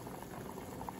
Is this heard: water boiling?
yes